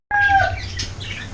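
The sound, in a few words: birds at a pet market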